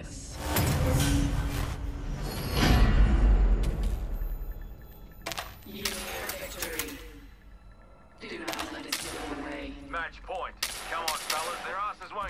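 Rapid bursts of light machine gun fire in the shooter game Apex Legends, loud and sustained in stretches with brief pauses between volleys, heavy booms mixed in, and talk running underneath.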